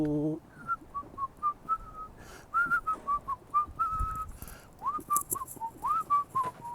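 A person whistles a bouncy tune alone, a clear pure tone in short repeated phrases with gliding notes, close and moderately loud, with no talk.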